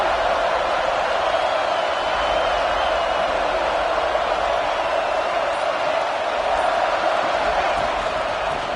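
A packed stadium crowd at a Vanderbilt versus Florida State college football game roars in a continuous, dense wall of cheering that stays loud and even throughout, with no distinct voices standing out.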